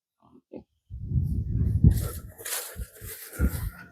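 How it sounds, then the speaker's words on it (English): Wild hogs grunt and snort as they are herded into a livestock trailer, with several low, close grunts and squeals mixed with scuffling hooves and clattering movement. "there is absolutely no way you're getting all these pigs in one trailer"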